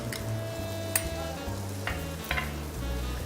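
Garlic and julienned bacon sizzle steadily in butter in a pan, a constant close frying hiss broken by a few soft stirring clicks, with no voices.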